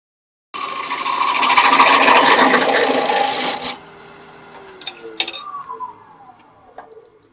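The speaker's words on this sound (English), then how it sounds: "we're going to use a skew to kind of define that dovetail" A skew chisel cuts a bowl on a spinning wood lathe, giving a loud, harsh shearing rasp for about three seconds that stops abruptly, followed by a quieter hum of the lathe and a few light taps and scrapes.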